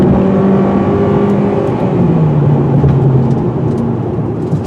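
A 2021 Hyundai Sonata Hybrid engine roars under hard acceleration in sport mode, its pitch climbing and shifting steadily, heard loud from inside the cabin with constant road noise.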